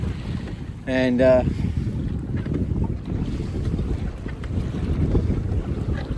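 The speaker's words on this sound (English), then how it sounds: "I don't know if you can hear the wind coming up." Strong wind rushes over a boat at sea as a storm comes up, buffeting the microphone in a steady low roar along with wave noise; a voice speaks one brief word near the start.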